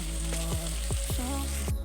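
Potato filling for Bengali-style chicken samosas stir-frying in a pan, a steady close sizzle with a few sharp scraping strokes of the spatula, no voices.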